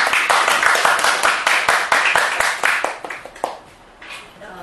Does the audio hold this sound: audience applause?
yes